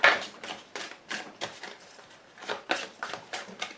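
A deck of tarot cards being cut and shuffled by hand gives rapid, regular riffling clicks and soft slaps, close and distinct, with no voice over them.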